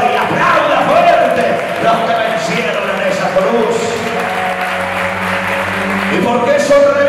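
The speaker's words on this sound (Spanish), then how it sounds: "¡Aplauda fuerte!" Church congregation claps and cheers loudly during a Sunday sermon, a dense sustained wash of applause with voices and shouts mixed in, steady throughout.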